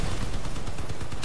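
Autocannon fire in the vehicle combat game Crossout, a loud, dense burst of rapid, rattling shots at close range with no talk over it.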